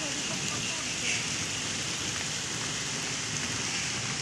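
Steady rain falling on an evening in the monsoon season, a soft continuous wash of drops on surfaces heard at a distance, fairly faint and unbroken, with a voice briefly present underneath.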